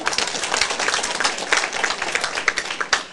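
An audience at a lecture bursts into brisk applause, dense overlapping hand claps filling the room for a few seconds without a break.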